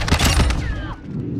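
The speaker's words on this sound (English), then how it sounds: "Just started kind of shooting." Rapid bursts of shotgun fire in a first-person shooter match, several heavy overlapping blasts in quick succession that fade into a brief mechanical whir, loud and close with no talk.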